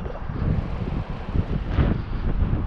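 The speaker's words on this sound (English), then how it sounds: "the wind has picked up since I got out here" Strong wind blows steadily outdoors at a calm-turned-gusty high-speed car run, a loud continuous roar of wind buffeting the microphone with brief dips and surges, no talking.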